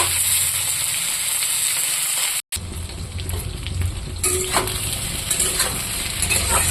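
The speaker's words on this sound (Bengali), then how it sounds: "এটা একটু তেলের সাথে ভাজা করব" Tengra fish frying in oil, a loud close sizzle with stirring scrapes, cut by a brief silent gap before the bubbling sizzle resumes and carries on steadily.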